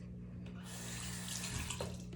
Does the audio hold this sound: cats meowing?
no